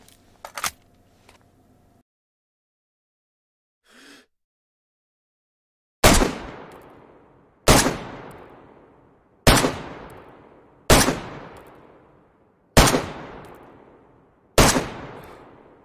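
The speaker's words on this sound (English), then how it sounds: "We can go straight into the 100 meter mark and start sending down some fire down that range using that P1-87 scope again." Assault rifle shots from DayZ fired on a 100-metre range with a P1-87 scope ring out as six loud, sharp single reports at roughly even intervals, each decaying quickly, after a few faint clicks and quiet handling sounds.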